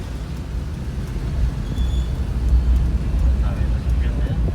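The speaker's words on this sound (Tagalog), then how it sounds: "Dami na sasakyan na yan." Steady low rumble of busy road traffic as several cars pass close by, the engine noise swelling gradually, with faint voices underneath.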